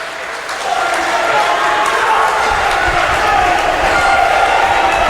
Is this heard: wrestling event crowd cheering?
yes